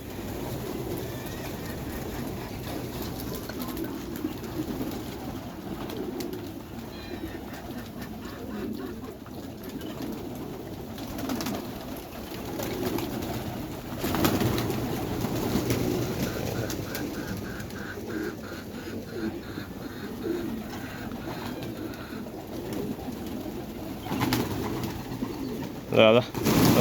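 Pigeons coo in a pen, with low, repeated calls against a murmuring background, and people talk at times.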